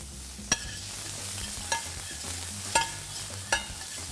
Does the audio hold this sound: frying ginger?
yes